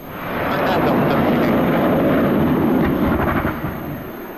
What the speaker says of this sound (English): This Embraer 175 suffered an engine issue during takeoff, forcing it to abort and return to the gate.